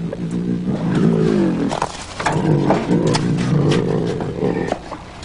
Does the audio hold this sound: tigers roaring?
yes